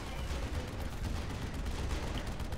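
Muffled, continuous gunfire pounds a fortress in AirMech Strike, a dense rumbling stream of shots at low volume with no break, heard without talk.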